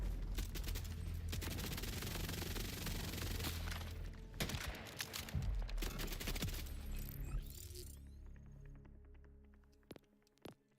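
A gun in the video game Borderlands 4 fires in dense, rapid bursts, loud and close, with a layered mechanical crackle that tapers off toward the end into sparse clicks and hum.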